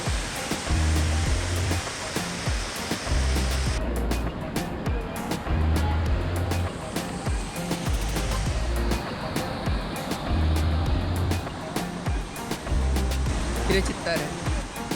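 A small waterfall in Goa, water falling from three sides into a ditch, gives a steady broadband rushing roar through the whole stretch, close and constant, with low engine-like rumbles recurring underneath.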